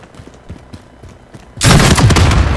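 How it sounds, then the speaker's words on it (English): Gunfire in Call of Duty Warzone erupts suddenly halfway through as a loud, dense burst of rapid shots, following a quieter stretch of faint thuds and clicks. "You just shooting boxes? Or are you shooting at somebody?"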